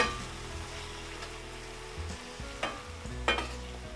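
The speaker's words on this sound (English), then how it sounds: "Give it a good mix and cook it for next 5 to 7 minutes until the masala is well" Turmeric and chili masala for an Odia koi fish curry fries in a pan with a steady sizzle, while a spoon stirs it and scrapes the pan in several distinct strokes near the end.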